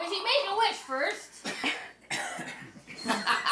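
A person coughs several times close by at a birthday gathering around a cake, the rough bursts mixed with overlapping chatter and talk from others in the room.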